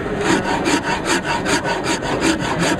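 A hand-stitched Auriou wood rasp in number 5 grit files wood with steady rhythmic back-and-forth strokes, about ten coarse rasping passes, close and loud with no talking.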